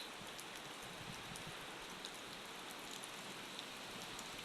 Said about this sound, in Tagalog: Pero ang lakas ng ulan dito